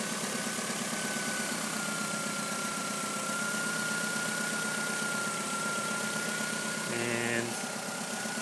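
A car engine idles steadily with its alternator under light load while charging the battery, giving a constant mechanical hum with a faint whine and a brief change in tone near the end.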